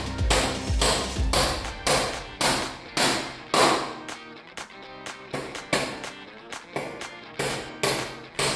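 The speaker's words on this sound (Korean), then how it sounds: "이번에는 70mm와 100mm 장대못을 가지고 못질을 해보았는데요." A hammer with a magnetic head drives 70 mm and 100 mm long nails with a steady series of sharp, loud blows, some ringing, some dull thuds, close by and without speech.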